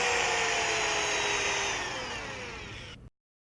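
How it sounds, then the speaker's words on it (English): A power drill fitted with a hub resurfacing kit spins steadily against a vehicle hub around the lug studs, giving a loud continuous high whirring grind that slowly eases in pitch before cutting off abruptly. "This is used on a drill to clean up the area around the lug studs."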